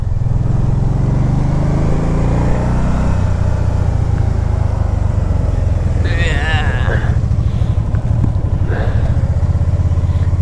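A 2012 Can-Am Spyder RT-S three-wheeled motorcycle hums loudly at close range while being ridden, its engine and wind noise continuous under a voice talking.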